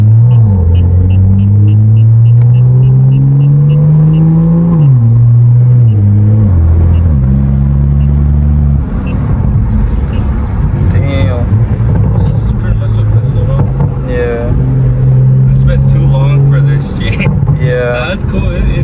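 A BMW M340i's exhaust drones and rises in pitch as the engine revs up, then rumbles deep and loud at close range while people talk over it.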